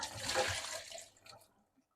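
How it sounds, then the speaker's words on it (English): Milk pours out of a vessel into a sink during home cooking, a steady close liquid splash lasting about a second before trailing off into a few faint drips. "So I'm going to pour this milk out."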